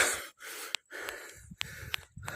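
A man panting heavily after running outdoors, ragged gasping breaths in quick bursts separated by short pauses, close and fairly loud with no words spoken.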